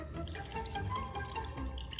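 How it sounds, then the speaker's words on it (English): Water poured from a container over rocks and grit inside a rock tumbler barrel, a brief, quiet splashing trickle heard alone. "Time to add the water."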